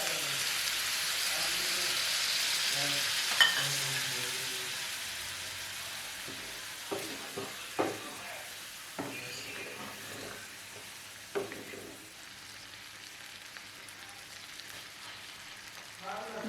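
Crushed garlic frying in a pan while local chicken is cooked, a soft steady sizzle that fades gradually, punctuated by several sharp utensil taps and scrapes.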